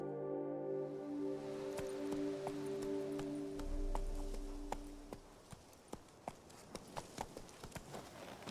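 A horse in The Witcher 3 breaks into a gallop, its hooves clip-clopping in a quickening, steady rhythm that stands out over fading musical tones and a low rumble.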